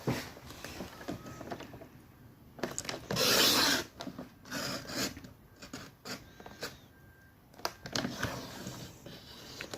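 A blade draws through cardstock while a frame is cut for a handmade card, giving soft scratchy rubbing strokes with one louder rasping pass and several short scrapes, close and quiet, with no talking.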